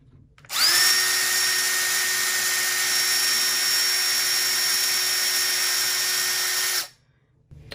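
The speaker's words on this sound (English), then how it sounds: "Once you've got your hole drilled," A power drill bores a pilot hole in an Arcade1Up arcade cabinet, a loud close motor whine that spins up sharply, holds an even pitch for about six seconds, then cuts off, with no talking.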